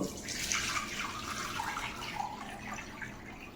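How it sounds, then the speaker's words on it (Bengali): Coconut water being strained during pudding preparation, a steady close trickle and pour of liquid running for several seconds with no speech. "ডাবের জলটা ছেঁকে নেব।"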